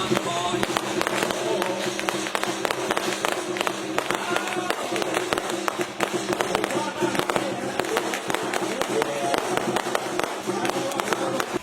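Fireworks crackle and pop in a dense, continuous barrage during a golden dragon performance at a shrine in Phra Phutthabat, Saraburi, Thailand, with bright bursts overlapping steadily over crowd noise.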